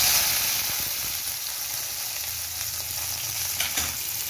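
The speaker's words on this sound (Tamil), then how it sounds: "வெங்காயம் ஃப்ரை ஆகிடுச்சு." Chopped onion frying in hot oil in a home kitchen pan, producing a steady, close sizzle with faint scraping and stirring, continuous and unaccompanied by any voice.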